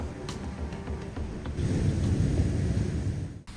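Tropical rain pours on an island while thunder rumbles low and heavy, swelling midway through and then cutting off abruptly near the end, with no voices.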